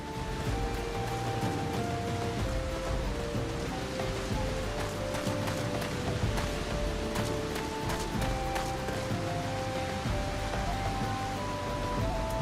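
Heavy rain pours steadily in Final Fantasy XIV, a dense continuous hiss of drops on surfaces, with soft game music tones drifting underneath throughout.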